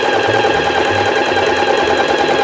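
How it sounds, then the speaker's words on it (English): A sewing machine runs steadily through a stretch stitch on fabric, stepping two forward and one back, a loud, close, continuous mechanical whir with a faint repeating rhythm and no voices. "So then I would sew this one with that stretch stitch."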